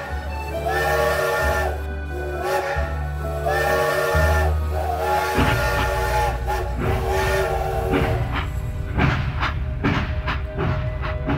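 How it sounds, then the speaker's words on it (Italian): A steam-train whistle effect sounds from a carnival float at a Persiceto carnival, several loud wavering toots in a row followed by clattering, hissing rhythmic train sounds. "Treno in partenza!"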